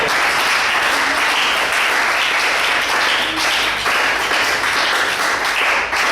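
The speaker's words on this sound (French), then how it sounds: "On peut acclamer cette parole" A church congregation applauding a preacher's words during a sermon: steady, dense clapping from many hands, loud and sustained throughout, with no pause.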